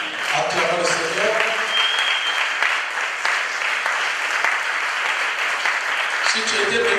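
A church congregation at a pastor's conference breaks into sustained applause, dense and loud clapping lasting the whole stretch with voices audible underneath.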